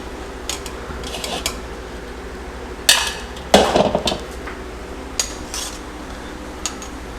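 Boiled shrimp lifted out of a cooking pot, with sparse metallic clanks and scrapes of a utensil against the pot, including a couple of louder knocks over a low background hum.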